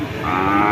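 At the Chaugachha cattle market in Jashore, a single cow lets out a brief, loud, close moo with no talk over it.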